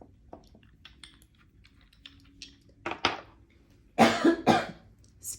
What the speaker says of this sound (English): I was trying to hold that cough back